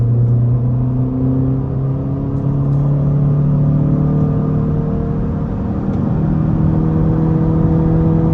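A 2024 Honda Civic Sport Hatchback accelerates at half throttle, its engine note rising smoothly as a steady droning hum heard from inside the cabin, with road rumble underneath.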